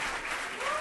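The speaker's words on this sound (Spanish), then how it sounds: "Ahí te están aplaudiendo." Audience applause at a music-education session with students, a steady dense wash of clapping lasting under a second, moderately loud with no break.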